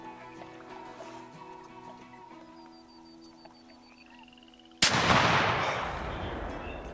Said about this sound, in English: But I do want to try and take a shot with the 12 gauge here.